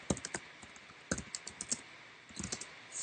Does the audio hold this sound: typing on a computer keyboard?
yes